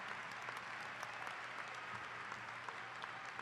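Steady applause from a large audience at a 2018 high school graduation ceremony, a dense even wash of clapping that holds at one level throughout with no voices over it.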